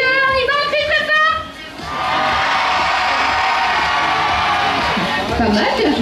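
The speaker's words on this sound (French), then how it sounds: "On y va, on crie très fort." Crowd of visitors at a zoo shouting and cheering loudly together in a sustained, dense roar after a brief voice, filling the space for several seconds.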